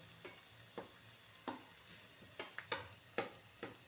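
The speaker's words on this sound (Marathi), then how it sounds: "कांदा चांगला भाजून द्यायचा आपण भाजत आलेला आहे" Onions fry in oil in a pan for a crab masala, a soft sizzle under intermittent scraping stirs, with about ten sharp spoon strokes spread across the few seconds, quiet and close.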